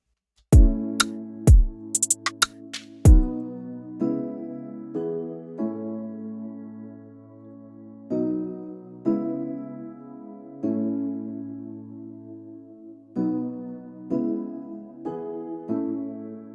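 Soft electric piano chords from Labs layered with a Stage 73 V2 electric piano, warm, change slowly over a gentle Afrobeat progression after a few sharp clicks at the start; no voices.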